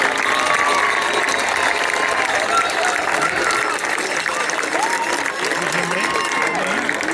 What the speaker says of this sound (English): Let's give another round of applause for our Lee High School kings and queens of the past.